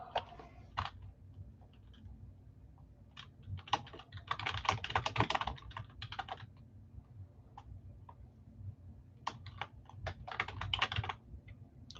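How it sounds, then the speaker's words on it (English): Rapid clacking of keys on a computer keyboard comes in irregular bursts, with dense flurries of keystrokes separated by short pauses, close and fairly quiet over a low background hum. "Started typing it."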